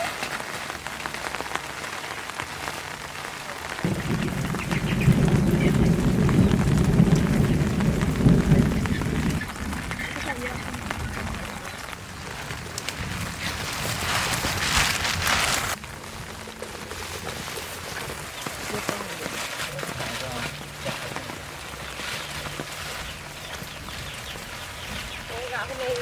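Heavy rain pours down steadily at a chicken farm, swelling into a louder drumming surge for several seconds before easing back to a constant hiss, with a faint low rumble and soft voices now and then.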